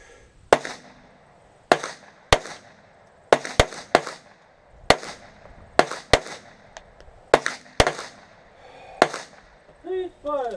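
Gunshots ring out at a shooting range during a timed stance drill, about a dozen sharp, loud reports in irregular clusters with short gaps between them, with faint voices near the end.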